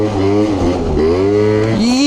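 A 50cc scooter engine revs up close, its buzzing note wavering and rising in short bursts with a few dips between, loud and alone.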